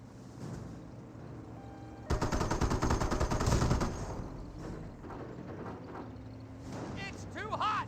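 Heavy gunfire and explosions in a Company of Heroes match, with US Greyhound armored cars fighting Panzer Elite forces; a loud burst of rapid shots swells midway, with a commentator talking over the battle noise.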